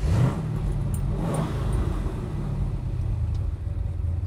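A 7-liter Ford Galaxie 500 race car's engine rumbles loud and close as it pulls away, a steady low throaty drone with a brief rev at the start, alone without talk.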